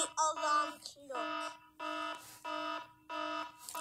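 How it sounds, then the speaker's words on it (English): An alarm clock sounding a rooster-like tone goes off in loud, repeated electronic bursts of a few tones each, separated by short gaps. "Bunwe, your alarm is going off."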